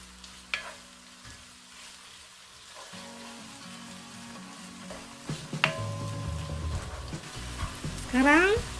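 Spice paste sizzles and is stirred in a hot pan for a traditional Indonesian banana blossom and chicken stir-fry. A steady frying hiss builds, with occasional utensil scrapes and clinks, close and moderately loud, and a faint voice can be heard.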